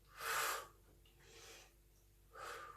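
Breathing during an arm exercise: a strong, close inhale or exhale, then a softer breath, then another audible breath near the end. No speech is heard.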